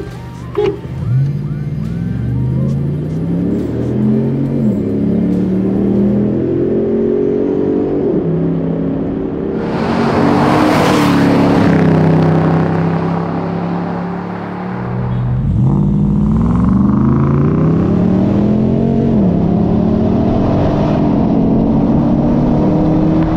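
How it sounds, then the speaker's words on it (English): A supercharged Nissan Patrol and a Land Cruiser SUV drag race, engines roaring loudly through repeated rising gear-shift sweeps, with a brief whooshing burst midway as the vehicles pass, close and continuous without speech. "Supercharged Patrol convincingly wins our SUV drag race."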